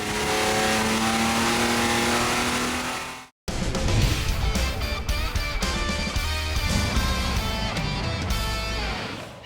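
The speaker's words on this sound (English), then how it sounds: "Then we give it full throttle." A Ford 300 cubic-inch inline six with raised compression, ported head and bigger cam runs at full throttle, a loud sustained roar that cuts out briefly and then returns with surging, fluctuating revs.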